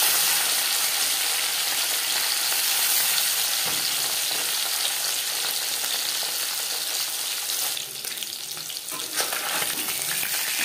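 Marinated bata fish fries in hot refined oil, giving a steady, loud, continuous sizzle that runs throughout with a slight dip near the end, and no voices.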